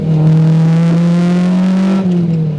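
A K20-swapped Honda EG Civic, a stripped road-going race car with a free-flowing exhaust, holds a loud, sustained high rev with a strong steady engine tone that eases off at the end, close and alone.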